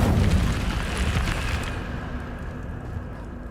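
An Incendio fire spell goes off in Hogwarts Legacy, a loud rushing, rumbling whoosh of flame that swells at the start and then trails off into a softer steady roar.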